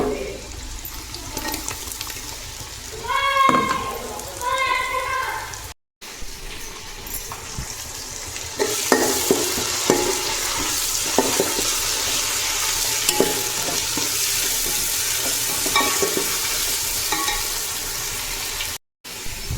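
Ginger garlic paste being sautéed with fried onions in a pot for mutton biryani, giving a steady sizzle with clattering stirs and scrapes, along with bursts of running water and a brief chirpy sound early on.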